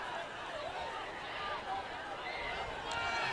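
Skyridge high school football crowd murmuring as a steady, dense hubbub with a few louder calls rising out of the babble, continuous and moderately distant throughout.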